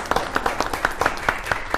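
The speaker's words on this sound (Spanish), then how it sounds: "un aplauso grande" Sparse audience applause for Argentine champion women players, a handful of distinct, fairly loud claps spaced irregularly over a soft background of lighter clapping, no speech over it.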